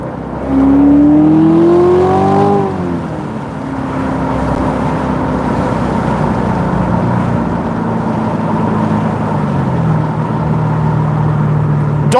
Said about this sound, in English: Incoming downshift in a second.